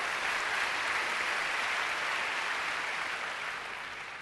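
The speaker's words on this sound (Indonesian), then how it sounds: "Tepuk tangan." A church congregation applauds during a sermon in a sustained, even burst of clapping that holds steady and then eases off slightly at the end.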